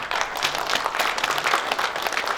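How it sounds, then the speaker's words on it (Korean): An audience at a Korean journalists' day ceremony applauds with dense, steady clapping filling the room, loud and continuous throughout the short stretch. "더 크게 박수 부탁드리겠습니다"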